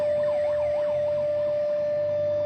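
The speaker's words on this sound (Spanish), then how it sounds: "la sirena sonando" A flood warning siren wails as a flash flood arrives, its rising and falling tone steady and continuous over a constant high whine and low outdoor rumble.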